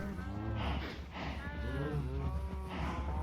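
Cows mooing in Minecraft, a herd of about 48 cattle, with several overlapping low, drawn-out moos at steady loudness throughout.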